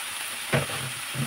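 Pieces of bottle gourd hit hot oil in a pan, giving a steady bright sizzle with two soft thumps and brief surges as they drop in, heard close and without speech.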